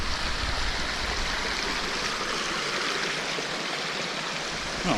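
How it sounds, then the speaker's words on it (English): A stream running near a campsite in Henry Coe State Park, with a steady, loud, broadband rush of flowing water heard close by and continuing unbroken with no voices. "literally water's like right here, like beautiful, good running, delicious water."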